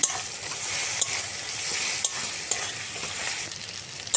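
Garlic sizzling and being stirred in a hot frying pan, a steady broadband crackle with occasional spoon scrapes at regular intervals, close and fairly loud, no voices.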